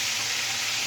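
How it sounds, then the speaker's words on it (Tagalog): Fish for fish steak fries in hot oil in a pan, giving a loud, steady, close sizzle with a continuous hiss and no pauses. "nagpiprito na tayo, nakasalang natin prito"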